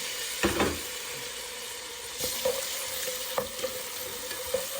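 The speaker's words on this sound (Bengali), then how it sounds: "তেলটা গরম হলে এখন পেঁয়াজগুলো দিয়ে দিচ্ছি" Chopped onions hit hot oil in a pan for a prawn and Malabar spinach dish, giving a steady broadband sizzle with a few sharp clatters of stirring spaced through it.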